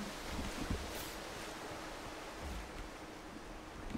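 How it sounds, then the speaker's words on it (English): A waterfall in the video game Sword and Fairy 7 sends out a steady, rushing broadband roar. It plays alone, with no voices, at an even, moderately quiet level. "the sound of waterfall is so loud"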